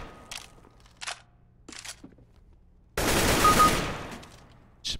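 Gunfire in Counter-Strike, several short separate shots spaced out, then a sustained loud burst of rapid automatic fire lasting over a second, close and dominant.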